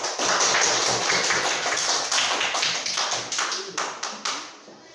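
Classroom clapping for a student group, a small cluster of hands giving brisk, fairly loud applause that thins out into a few scattered claps before stopping.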